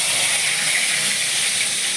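Chopped tomato sizzling in hot oil with black cumin (kalo jeere), a dense, even close-up hiss that holds steadily at the same level from start to finish, with no talking.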